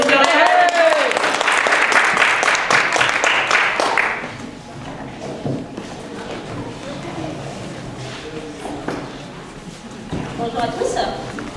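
A room full of people claps for a member of a group at a testimony lunch in Paris. Dense applause fills roughly the first four seconds, then fades into murmuring voices and light room noise while people talk.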